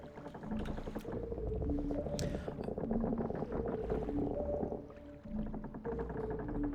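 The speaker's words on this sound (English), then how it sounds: "I like the sound of the creaking boat as well" A wooden boat in a video game creaks and groans in long, tonal moans over a low rumbling wash of water and wind, sustained and fairly close, with no voices.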